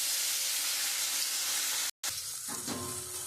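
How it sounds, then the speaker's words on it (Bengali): Pieces of lata fish fry in hot oil in a wok, giving a loud, steady broadband sizzle that stops for an instant, then resumes with stirring clatter and bubbling. "এবার আমি মাছগুলো খুব ভালো করে লাল লাল করে ভেজে নেব।"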